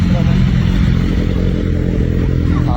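A big motorcycle's engine idles with a loud, close, steady low rumble as the bike is taken out for a group ride, while a voice speaks over it.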